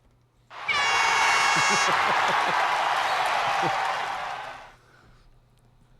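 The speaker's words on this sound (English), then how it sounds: "That's the most applause I've ever gotten." A small studio audience bursts into loud applause with a horn blast and cheering over it, the clapping swelling quickly, holding for about three seconds, then fading out.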